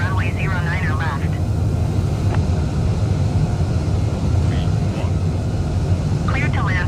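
Steady engine roar of a heavy Air Baltic airliner landing at Paris Charles de Gaulle in Microsoft Flight Simulator 2020, a loud continuous rumble with brief radio chatter over it at the start and end.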